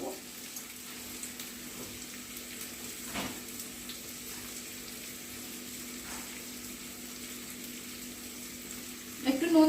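Boneless chicken, already tender, sautéing in a pan with salt added, giving a steady low sizzle throughout with a brief louder clatter at the very end.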